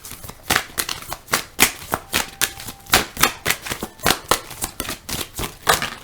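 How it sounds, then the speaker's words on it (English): A deck of tarot cards with stiff card stock is shuffled by hand close to the microphone, a fast, regular run of sharp riffling snaps and flutters repeating roughly every half second without pause. "Some of these cards are easier to shuffle than others."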